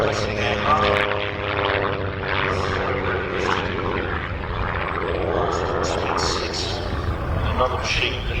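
A 1930s closed-cockpit monoplane dating from about 1935 flies overhead at a vintage airshow, its propeller engine a steady droning hum throughout, with a commentator talking over the aircraft sound.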